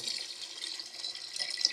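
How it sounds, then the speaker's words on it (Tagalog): Tap water runs steadily into a cooking pot for pork sinigang, a continuous close hiss and splash with no voices over it. "lagyan ko po siya ng tubig"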